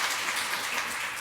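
A brief burst of steady applause from a church congregation, dense and even throughout.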